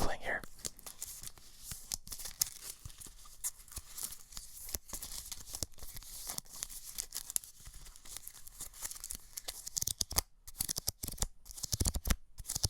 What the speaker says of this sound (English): Get a little bit more ASMR card shuffling here.